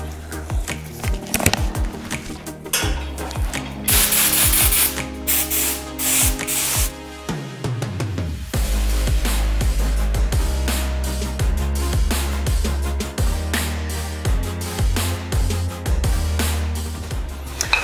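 Clear coat is sprayed from an aerosol can onto hydro-dipped bike parts in long hissing bursts and short puffs, close and loud, separated by rattles and handling clatter.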